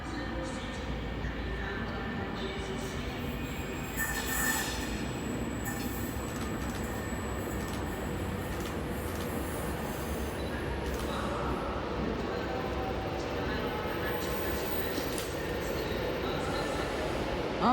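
An Avanti West Coast train to Glasgow Central passes through Carlisle station, giving a steady rumbling rail roar with faint wheel squeals and scattered clicks throughout, fairly distant and sustained.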